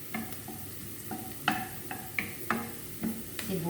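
Onion and garlic sautéing in a pan under repeated stirring strokes, a soft sizzle running beneath clear scraping clicks roughly every half second, close and moderately quiet.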